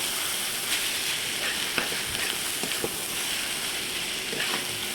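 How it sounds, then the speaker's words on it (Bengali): Noodles are stir-fried with eggs in a hot pan, a steady close sizzle broken by scraping stirs and soft clinks, with no talking. "নুডলসগুলো ডিমের সঙ্গে ভালোভাবে একটু মিশিয়ে নেব"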